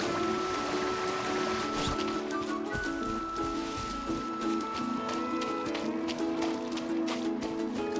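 A boat in Genshin Impact skims across ocean waves, a steady rushing wash of water with a constant engine-like hum running through it, loud and continuous throughout.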